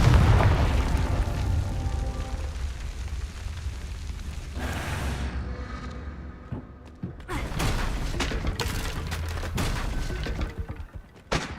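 Confringo blasting-spell explosions in Hogwarts Legacy: a dense booming blast, a short lull, then a string of sharp bursts and rumbling impacts, loud and close with no talking.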